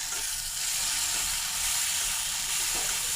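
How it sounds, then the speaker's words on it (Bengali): Onions fry in oil for a Bengali shing fish curry, a steady dense hiss and crackle of sizzling that holds evenly throughout, close and uninterrupted by talk. "বন্ধুরা, পেঁয়াজ ভাজিটা বাদামি কালার হয়ে আসছে"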